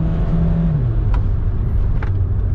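A high-mileage VW Caddy van is held in third gear with the throttle floored on a damp road, giving a loud, steady engine drone with road rumble from inside the cab and a brief drop in tone early on.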